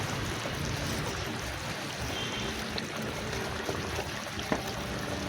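Fish head and taro curry boils in a pot, giving a soft, continuous bubbling hiss that stays quiet and steady throughout, with a faint pop near the end and no voices.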